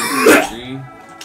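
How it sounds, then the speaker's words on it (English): A person gives one short cough, loud and close at the start, then it fades out with faint trailing noise, the kind of cough that comes from laughing hard during a Mario Party 2 gaming session. "I end up laughing so hard I cough."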